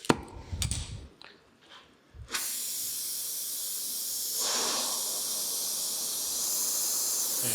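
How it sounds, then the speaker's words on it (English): A rosebud tip on a gas torch roars into a steady, loud hiss as it preheats a broken babbitt bearing casting for brazing, following a few clanks and knocks, with the flame noise holding for several seconds. "I got a rosebud on my torch here"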